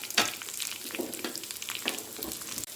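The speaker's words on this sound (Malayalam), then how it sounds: "എൻ്റെ കടുക് പൊട്ടുന്ന സൗണ്ട് കേൾക്കാം കേട്ടോ" Mustard seeds and a few curry leaves crackle and pop in hot oil while a lentil and drumstick-leaf curry is being made, with a continuous close sizzle and scattered sharp pops throughout, no talking.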